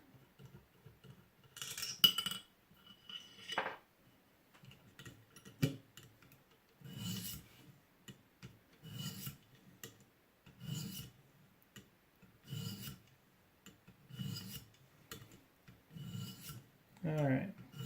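Recurve knife blade drawn across the stones of a ViperSharp knife sharpener, giving a series of short, rhythmic rasping strokes at close range, roughly one every second, moderately loud with a few quiet gaps.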